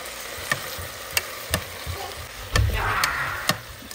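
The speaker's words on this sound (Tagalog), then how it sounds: "Haluin ang bahagya." Curry being stirred in a pan, with a spoon tapping and scraping at irregular intervals over a soft sizzle that swells briefly near the end, fairly quiet and close.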